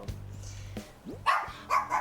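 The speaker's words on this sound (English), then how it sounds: "Indy, she's barked 19 times on stream." A dog barks several times in quick bursts, close and fairly loud, with a short whine-like yip mixed in.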